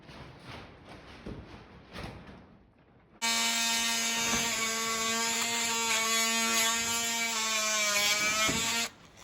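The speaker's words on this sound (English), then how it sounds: "I went as deep as I could with the hardwood blade" A saw fitted with a hardwood blade bites into a log and runs as a loud, steady, high-pitched whine for about six seconds, then cuts off abruptly, after a few quieter knocks and scrapes.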